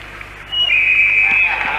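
A referee's whistle at an ice hockey match, the 1986 World Championship game between the USSR and the USA, blows one long sustained shrill blast over steady arena crowd noise.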